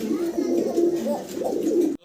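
A single female Mundian pigeon with black checker coloring coos continuously, close up, in a low repeating murmur with no talk over it.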